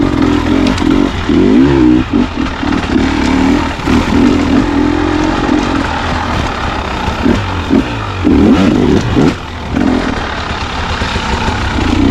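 A motorcycle engine rumbles loudly through a night ride, with repeated quick throttle blips rising and dropping in pitch over a constant low drone.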